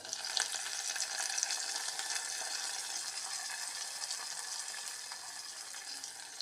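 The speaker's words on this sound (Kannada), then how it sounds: "ಒಗ್ಗರಣೆ ರೆಡಿ ಆಯಿತು" Spices for a tempering sizzling in hot oil, a dense continuous crackle heard up close with faint scattered pops, steady from start to finish without speech.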